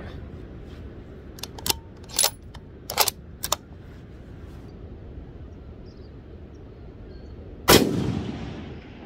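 Distant 6.5 Creedmoor rifle shots fired at rock on a hillside at long range in New Zealand, heard as a few sharp cracks spread across the first few seconds, then one louder, nearer blast with a decaying rumble near the end.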